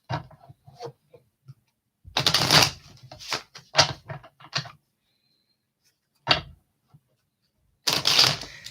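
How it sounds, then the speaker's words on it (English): Tarot cards are shuffled in several quick riffling bursts separated by quiet pauses, close and crisp, with a few lighter taps and clicks between them. "I'm in a mood to pull some cards."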